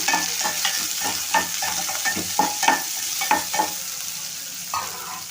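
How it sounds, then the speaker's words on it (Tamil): Onions sizzle steadily in a hot pan while a utensil stirs and scrapes in irregular strokes, with no one talking. "ஸோ வெங்காயம் வதங்கட்டும்"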